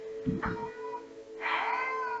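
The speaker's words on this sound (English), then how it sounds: "This is Chai Cat if you guys haven't met her before" A cat meows twice up close, a short cry followed by a longer, drawn-out meow, over quiet background.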